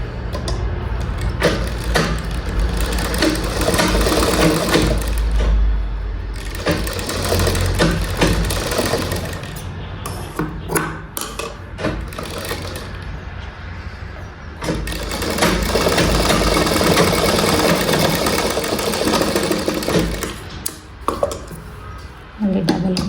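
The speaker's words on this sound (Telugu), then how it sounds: "మళ్ళీ డబల్ కుట్టు వేసుకోవాలి." A sewing machine runs in long sustained bursts while stitching a double seam on a blouse, with short pauses between runs and some talk over the machine.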